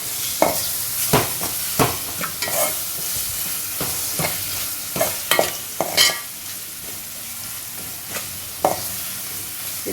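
Spices with turmeric and salt fry in a pan with a constant hiss, broken by sharp, irregular scraping knocks of a spoon stirring against the metal, close and loud.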